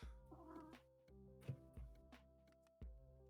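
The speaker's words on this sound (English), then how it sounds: "I hear cat." A cat meows indoors, a few short close meows and chirps scattered over a few seconds, fairly faint, with light tapping and a low room tone.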